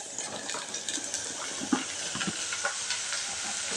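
Sliced mushrooms sautéing in hot oil in a pan for a mushroom chintamani dish, giving a steady close sizzle and hiss with small clicks and stirring scrapes throughout.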